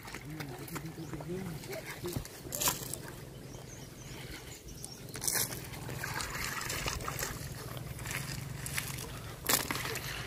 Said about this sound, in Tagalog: Ay, bilis ang tubig.